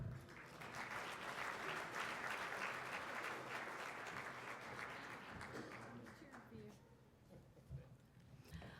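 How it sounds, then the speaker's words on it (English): A large audience at a 2011 corporate awards ceremony gives sustained, dense applause that gradually thins toward the end. "Please join me in welcoming Representative Richardson"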